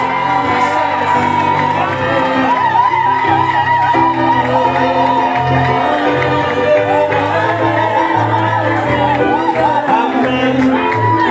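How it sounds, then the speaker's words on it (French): A church congregation cheering, whooping and shouting at a baptism ceremony, a loud continuous crowd roar with sung or voiced tones and shrill cries throughout. "Et nous allons appeler Marc Russell sous vos acclamations pour le Seigneur"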